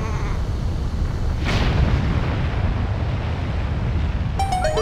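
A bomb goes off in The Legend of Zelda: The Wind Waker, a single loud boom with a hissing burst landing midway through a constant windy, ocean-like roar, followed by brief chiming tones at the end.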